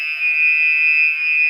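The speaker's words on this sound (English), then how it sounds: "That's the alarm going off at our hotel." A hotel fire alarm blaring a continuous, piercing electronic tone, loud and steady with a slight pulsing swell, heard alone without talk.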